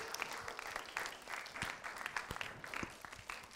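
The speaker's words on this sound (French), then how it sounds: "Merci, applaudissez pour elle." Applause from a ciné-club audience after a film screening, a soft, steady patter of many hands clapping throughout without a break.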